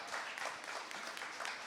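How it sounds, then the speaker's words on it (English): Audience clapping at a food system community summit, steady broadband applause with no clear pauses, heard fairly quietly from a distance. "You can clap"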